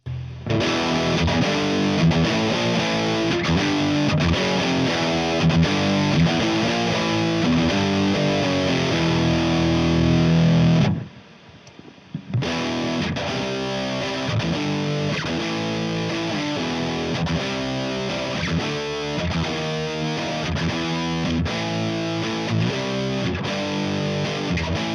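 Electric guitar played through an Orange TH30 valve amp switched to its half-power 15-watt setting, loud, continuous distorted chords and riffs with a brief drop-out near the middle before playing resumes.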